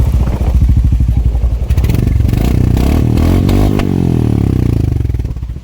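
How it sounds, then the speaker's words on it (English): Royal Enfield Hunter 350 with its original exhaust revs up close and very loud, a deep thumping single-cylinder note rising and falling with throttle blips, with some rattling clatter. "And that's the original RE exhaust,"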